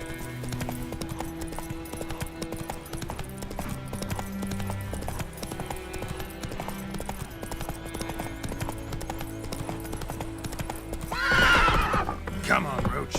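Roach the horse from The Witcher 3 clip-clops steadily through the whole stretch, layered over game music, with a loud whinny and snort near the end; a voice is heard briefly.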